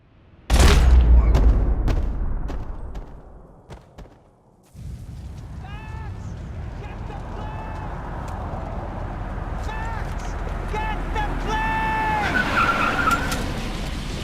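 A car speeds and skids in the video game Max Payne 3. It opens with a loud crash and boom, then a steady engine roar carries repeated high tire squeals and screeches, rising toward the end.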